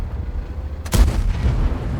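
A single heavy tank cannon blast from an AMX 13 105 in a video game booms out near the middle, with a sharp crack and a rumbling tail, over a steady low background hum.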